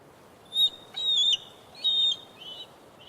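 Bald eagle calling from a tree, several high, thin chirping calls in short bursts with gaps between, fairly faint and alone.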